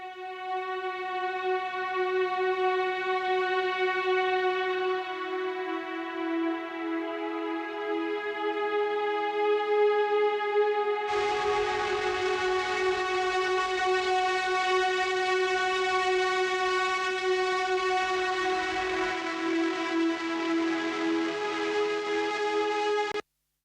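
Sustained guitar tones pass through Decapitator distortion and Pro Q2 EQ in a mix of a track. A steady harmonic drone grows suddenly brighter and grittier about halfway through as the distortion comes in. No talking.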